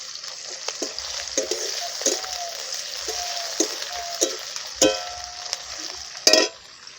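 Potatoes and ginger paste frying in a pan for a masala fish curry sizzle steadily up close, broken by scattered clinks and scrapes of a stirring spoon against the pan.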